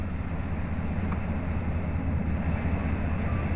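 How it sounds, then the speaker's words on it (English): A Melbourne-bound train idles at Ararat yard before departing, its steady low engine rumble continuous and fairly distant, with no voices. "the Melbourne train is about to depart in the background"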